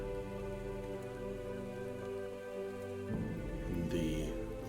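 A rain storm sound effect plays as a soft, steady wash of rain, with a low rumble of distant thunder rising near the end and layered under a faint musical drone.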